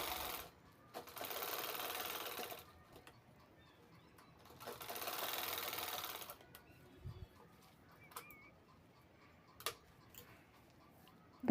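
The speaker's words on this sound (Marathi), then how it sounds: "हे दोन्ही पीस झिपने अटॅच करून घ्यायचे आहेत." Sewing machine stitching a zip onto a fabric handbag runs in two steady bursts of about two seconds each, separated by quiet pauses with a few faint clicks and handling taps.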